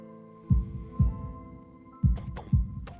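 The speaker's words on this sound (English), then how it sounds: "My heart is pounding now" Pounding heartbeat effect from the Katawa Shoujo visual novel, deep thumping pairs of beats repeating at a steady pace over a low background hum of music, loud and close.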